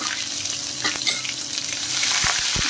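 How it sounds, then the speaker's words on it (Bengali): Garlic and ginger frying in hot oil with whole spices for an urad dal torka, a steady close sizzle with stirring scrapes and a few sharp utensil clicks near the end. "এখন আমি দিয়ে দিচ্ছি দেখেন রসুন আদা"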